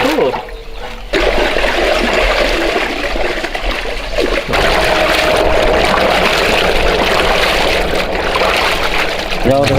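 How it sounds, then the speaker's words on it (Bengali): Water gushes and splashes loudly and close as a big carp is washed, a continuous rushing pour with short breaks, while people talk over it. "হ্যাঁ মাছটা আমরা সুন্দর করে ধুয়ে নেবো"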